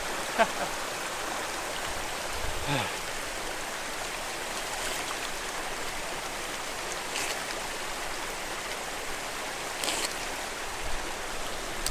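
Glacier meltwater runs steadily as a broad, continuous outdoor rush, close and even throughout, with a few faint clicks and knocks on top and no talk.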